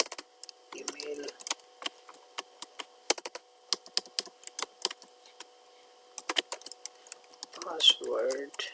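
A password typed on a computer keyboard: quiet, irregular key clicks in quick runs with short pauses, close up, with a brief murmur of voice near the start and end.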